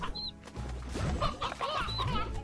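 Chickens cluck in the video game Slime Rancher, a busy cluster of short clucks and squawks over dense game sound, fairly loud throughout.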